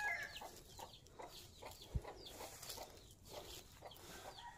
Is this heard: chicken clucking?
yes